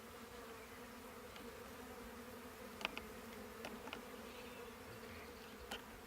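Honey bees hum steadily around wooden hive boxes, a low continuous drone with a few brief sharper buzzes as single bees pass close.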